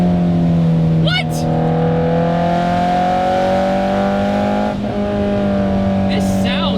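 A Toyota MR2 Spyder engine revs loudly and continuously, its pitch rising and falling as it accelerates, with brief sharp squeaks and a voice talking over it.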